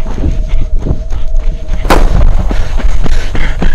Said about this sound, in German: der Ferne wird plötzlich ein Schuss abgefeuert.